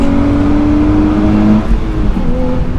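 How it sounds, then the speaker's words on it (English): A 2023 Nissan Z Performance with manual gearbox doing a burnout, its engine roaring at high revs with a droning, strained tone, then dropping and wavering as the revs shift, loud and close. "Alright, well, it can do a burnout."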